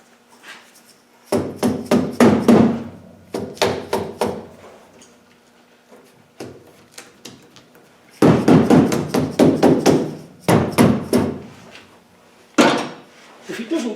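A hammer knocks on a car door panel in quick rapid volleys of sharp metallic taps, separated by pauses, close and loud.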